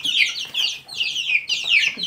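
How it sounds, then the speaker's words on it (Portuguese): Chicks of the naked neck breed, 14 days old and feeding on mealworms, peep and cheep in rapid, high repeated calls, close and fairly loud, in three clustered bursts. "Esses são aqueles pintinhos que eu mostrei com vocês há 14 dias atrás."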